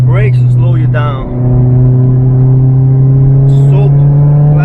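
Supercharged ND Mazda Miata engine pulling hard from inside the cabin, a loud steady drone climbing slightly in pitch as the car accelerates up a curve, with brief bits of talk over it.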